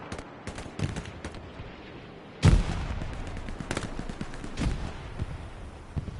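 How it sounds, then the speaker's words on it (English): A machine gun fires during a Hell Let Loose battle, with scattered distant shots followed by a loud close burst and continuing rattling fire and impacts. "That MG is laying down some hate."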